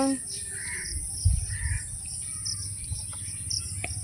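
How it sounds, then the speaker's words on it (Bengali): House sparrows chirp in short bright bursts, scattered and fairly close, over a low background hum with faint rustling. "আবার চড়ুই পাখি চলে এসেছে"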